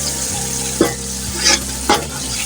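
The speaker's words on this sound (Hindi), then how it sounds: "तो मैंने भूनने के लिए रख दिया और ये भून के तैयार हो रहा है" Pulao masala for beef yakhni pulao roasts in a pan with a loud nearby sizzle, punctuated by three distinct stirring scrapes, no talking.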